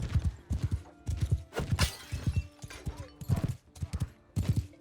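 Hooves clip-clop in a fast, steady galloping rhythm during Mount & Blade 2 Bannerlord gameplay, loud and continuous with a faint whinny mixed in.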